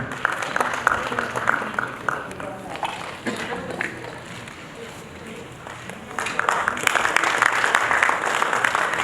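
Applause from an audience at a cooperative-sector gathering, dense and steady, easing in the middle and swelling louder again toward the end, with talk faintly underneath.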